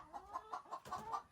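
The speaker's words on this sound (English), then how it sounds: "there are hens in there, and they do a good job at sharing the space" Hens in a nesting box cluck softly in a quick, steady rhythm of about half a dozen close, faint clucks, with no one talking.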